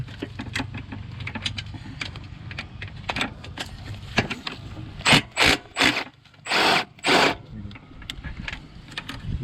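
A ratchet works on intake manifold bolts, giving a quiet run of ticking clicks and metallic taps, then several louder, longer grinding bursts near the end.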